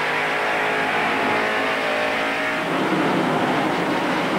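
A NASCAR stock car engine at the 1993 Bud 500 roars loudly and steadily, then its pitch drops as the driver brakes into a corner, the car close and dominating the sound.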